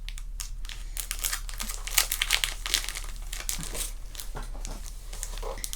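Crinkly plastic packaging around comic books is pulled and torn open up close, with dense bursts of crackling and crumpling that go on steadily against a low background hum.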